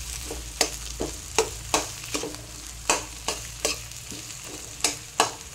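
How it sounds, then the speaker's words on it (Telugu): Dosa batter sizzles on a hot pan beside an aloo filling, a soft steady hiss broken by about a dozen sharp rhythmic scraping strokes roughly every half second, close up, with a low hum underneath and no talking. "మనము ఇక దోశ వేసేసుకుందాం"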